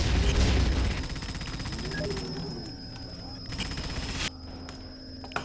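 Incoming enemy gunfire in the game Hostile Waters: Antaeus Rising sounds as a dense, rumbling burst of rapid shots that fades into a steady mechanical hum, with a sharp jolt near the end.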